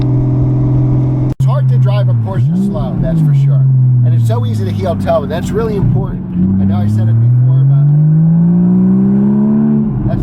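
A Porsche Boxster S engine droning steadily while driving, its pitch rising and falling through gear changes, with someone talking over it throughout.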